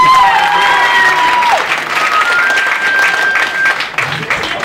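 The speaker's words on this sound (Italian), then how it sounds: "ancora applausi" Audience applause rolls through an indoor showcase concert in Turin, dense steady clapping and some crowd noise at close range, with a held musical tone fading out underneath.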